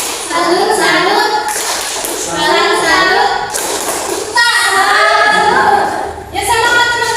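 A classroom of children claps out a rhythmic patterned clap in bursts, chanting along between the rounds of clapping, close and fairly loud.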